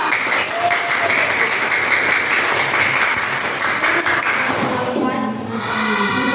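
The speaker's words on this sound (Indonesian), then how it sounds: "Tepuk tangan dong." Steady, dense clapping from a group of children, sustained for several seconds with a few voices mixed in.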